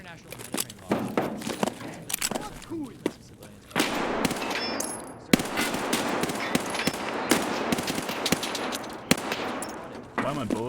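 Rapid automatic gunfire from a shooting video game rattles in bursts, with sharp single shots and clattering impacts over a dense, continuous din, while a voice talks over the action.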